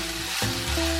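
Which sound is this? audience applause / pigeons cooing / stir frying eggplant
stir frying eggplant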